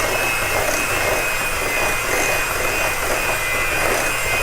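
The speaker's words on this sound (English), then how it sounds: "I basically use a hand mixer" Electric hand mixer beating cream cheese pound cake batter, a continuous close motor whine with a thin high tone over a rough, even churning that never lets up.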